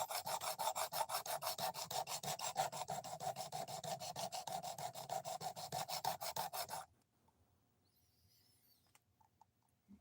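A knife blade is ground by hand on a 220 grit abrasive in fast, rhythmic rasping strokes, close and steady for about seven seconds before stopping abruptly into near silence.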